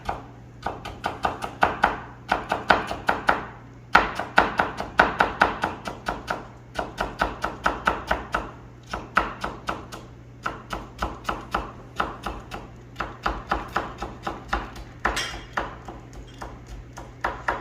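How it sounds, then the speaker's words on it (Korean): A knife chops quickly and steadily on a cutting board while julienning clam meat and vegetables, with dense, even, close-up strokes that run without a break under a constant low hum. "어슷 썰어서 채를 썰게 되면"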